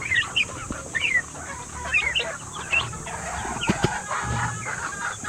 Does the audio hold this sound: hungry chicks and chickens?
yes